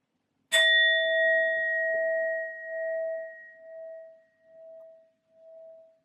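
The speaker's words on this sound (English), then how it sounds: "I'm first going to use my sound bowl to clear and set the energy" A sound bowl is struck once, giving a sharp metallic onset followed by a long clear ringing tone that slowly fades in pulsing waves, alone in a quiet room.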